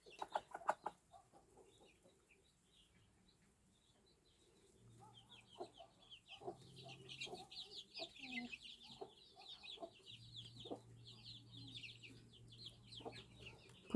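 Chickens, including chicks, cluck softly and intermittently nearby, with faint background chirps; quiet at first, then busier clucking through the second half.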